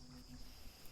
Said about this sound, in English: buzzing and chirping around you.